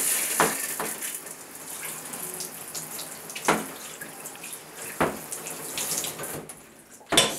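Water sprays steadily from a handheld shower head aimed at a product and its surroundings, a close continuous hiss broken by a few sharp splashes and clicks, with no voices.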